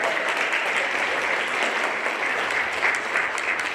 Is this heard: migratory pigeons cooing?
no